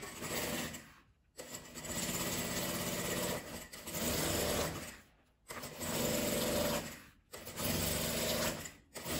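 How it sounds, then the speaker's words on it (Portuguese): Sewing machine stitching bias binding onto a clear crystal plastic pouch, running in several bursts of fast, steady mechanical whirring separated by short pauses, fairly close and with no talk over it. "E já vou pregar aqui o meu viés de um lado e do outro."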